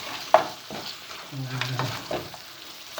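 Goat stew (kaldereta) simmers in a pot as pepper and bay leaves go in, with a ladle or spoon clinking and scraping through a quiet bubbling sizzle.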